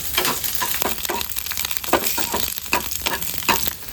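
Okra sizzles steadily as it is sautéed in a pan for sambar, with stirring scrapes and clicks breaking through the continuous close-up frying hiss.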